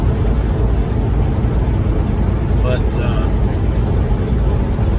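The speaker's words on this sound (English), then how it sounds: "my engine fan. I don't know if y'all can hear it" A semi truck's engine fan runs nonstop, making a steady, loud roar with no break; someone speaks briefly over it.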